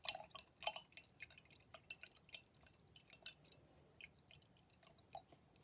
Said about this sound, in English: dip them into my cup of water, and just gently stir them around